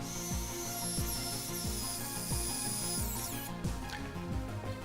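Small screw driven into a plastic part of a K.I.T.T. scale model kit, with a steady power-tool whir over repeated soft clicking turns, close and continuous.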